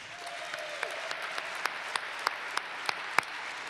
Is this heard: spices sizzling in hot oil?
no